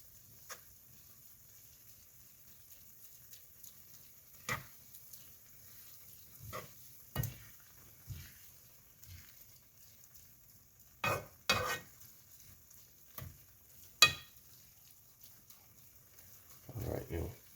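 Spicy tuna being stirred and folded in a bowl, a series of soft, scattered squelching and scraping bursts at irregular intervals against a quiet kitchen background.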